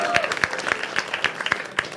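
A studio audience at a comedy talent show claps for a singer, fairly sparse, distinct hand claps under crowd noise and some voices.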